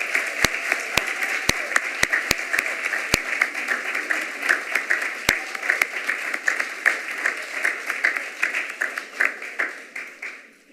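Audience at a mayor's service awards ceremony gives a large round of applause, steady crowd clapping with a few loud, close individual claps early on, continuing evenly and thinning slightly at the end.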